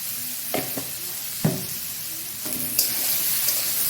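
Vegetables for a fenugreek-tempered vegetarian shukto fry gently in a pan, a soft steady sizzle broken by a few sharp spatula scrapes and knocks, near and without talk.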